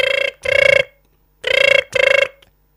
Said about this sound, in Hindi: फोन लगबै छिए,